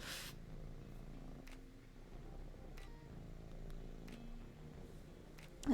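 A pet cat sitting on a computer keyboard purrs steadily and close by in a soft rumbling drone, with a few faint clicks and taps over it.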